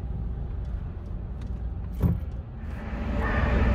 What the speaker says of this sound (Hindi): यहाँ पर अपनी गाड़ी पार्किंग भाई।